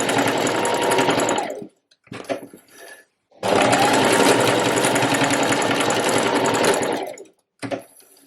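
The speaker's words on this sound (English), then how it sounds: "now I'm just going to sew with a straight stitch and a 1 centimetre seam allowance along both of those" A sewing machine runs a straight stitch along the ends of a trouser waistband in two long bursts, each nearly two seconds and three and a half seconds, with short stops and brief fabric handling between them, close and steady.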